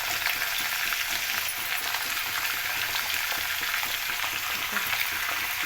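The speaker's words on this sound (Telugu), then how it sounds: "ఇలా కలుపుకుంటూ ఫ్రై చేసుకోవాలి మాడకుండా." Sliced potatoes and curry leaves fry in oil in a pan, a loud, unbroken, dense hiss of sizzling heard close up with faint stirring and no voices.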